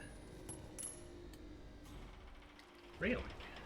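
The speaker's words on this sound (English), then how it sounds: "We hear a coin." A coin drops in the Hitman: World of Assassination video game, a brief bright metallic clink and rattle near the end, loud against a quiet game background with faint hum.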